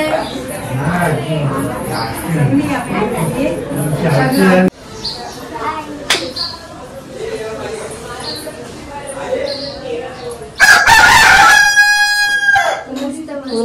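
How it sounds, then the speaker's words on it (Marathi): Chickens cluck and chatter nearby, then a rooster crows loudly and close, with talk heard earlier in the clip. "हैराण करून टाकले या कोंबड्यांनी"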